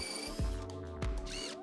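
Power drill driving countersunk screws up through the underside of a wooden sled, several short whirring bursts with brief pauses, close and fairly loud.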